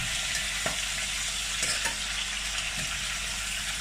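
Food fries in a pan with a steady, close hiss, broken by a few faint knocks of stirring and no talking.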